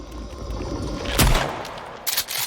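A single heavy shotgun blast from the video game Sons of the Forest booms out mid-clip over a steady game ambience, followed a moment later by a shorter rattling burst.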